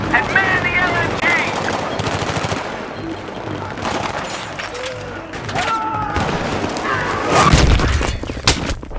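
Light machine gun fire rattles in rapid bursts in Battlefield 3 combat, loud and close, with heavy booms and thuds, crashes, and radio voices mixed in.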